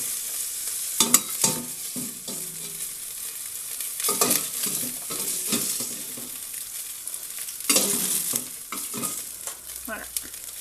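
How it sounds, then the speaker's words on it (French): Beef cubes fry in olive oil in a stewpot with a steady, close sizzle, broken by repeated scraping and stirring sounds. "j'ai mis un peu d'huile d'olive et j'ai fait revenir mes cubes de bœuf jusqu'à ce qu'ils soient bien dorés"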